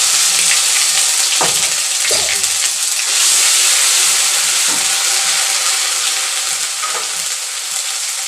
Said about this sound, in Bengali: কড়াইয়ে তেল দিয়ে দেবো, মাছটি ভুনা করবো